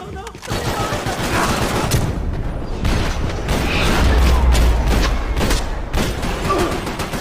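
Rapid gunfire from the video game Max Payne 3, a dense, loud stream of overlapping shots and bursts running throughout the clip, with no clear pauses.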